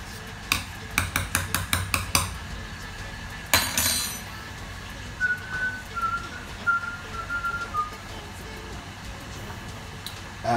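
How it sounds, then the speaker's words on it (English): Seasoned basmati rice stirred in a pot, a run of quick metallic clinks and scrapes at the start, a single louder knock, then softer intermittent taps with a thin whistling tone in the background. "I'm just gonna give the rice a little mix to get all the seasonings in thoroughly"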